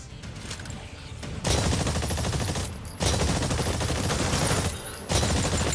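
Gunfire in the Exoprimal video game during target practice on distant targets: dense, loud automatic bursts that pause briefly between volleys, with sustained rattling firing and short gaps before each new burst.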